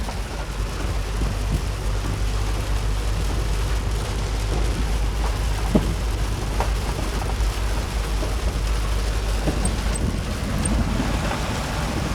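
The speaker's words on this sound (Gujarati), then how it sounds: "જુઓ તમે કેટલો ખતરનાક વરસાદ પડે" Heavy rain pours in a steady, dense roar over a low, constant rumble of a vehicle driving through it near Nashik and Sinnar, with occasional faint knocks and no voices.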